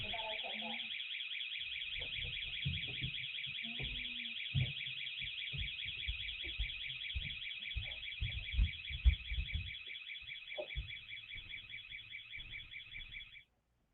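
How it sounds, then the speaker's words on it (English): A door alarm beeps in a fast, continuous, pulsing electronic tone in the background of a courtroom, holding steady for over thirteen seconds while people speak and move beneath it, then cutting off abruptly. "you can hear the door alarm in the background"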